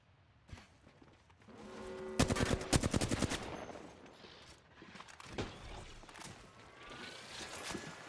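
Video game gunfire in bursts of sharp shots, with a dense rapid volley mid-clip and scattered single cracks afterward, loud and close over a busy background.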